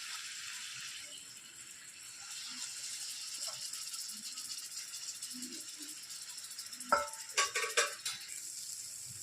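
Steady sizzling hiss of frying in oil, with a few sharper crackles and pops near the end.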